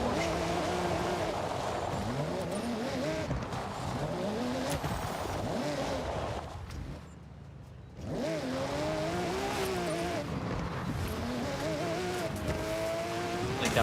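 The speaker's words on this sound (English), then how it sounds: "I say as I'm driving the Porsche." A Porsche races in Forza Horizon 6 with a loud, close engine that revs up and down through repeated gear changes, briefly drops out to quiet, then roars back with rising revs and some tire noise.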